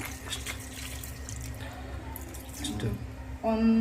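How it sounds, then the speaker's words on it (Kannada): Hot water is poured into a cooking pot of green chilli chicken gravy for raagi mudde, a close, steady trickle and splash that swells louder at the end. "ಬಿಸಿ ನೀರು ಹಾಕೊಳ್ಳೋಣ"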